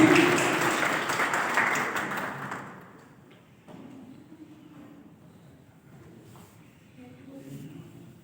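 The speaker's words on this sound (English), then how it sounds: "please welcome Mrs. Rakhi Goswami with great round of applause" Applause from an audience at a school's in-house teacher training session, a broad wash of clapping that starts loud and fades out after about three seconds, leaving quiet room noise.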